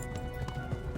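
Horse hooves pounding at a gallop in the medieval game Kingdom Come: Deliverance, a dense steady clatter of low thuds filling the whole second, loud and close with no talk.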